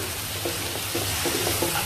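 Steady sizzling as mutton biryani curry with chili powder is stirred in a hot pan, with soft scraping strokes recurring under the constant frying hiss.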